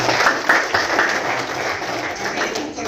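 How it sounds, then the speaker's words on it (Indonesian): Audience applause fills the hall at an award ceremony, a dense, even burst of clapping that holds steady for a few seconds. "Boleh kita tepuk tangan untuk itu."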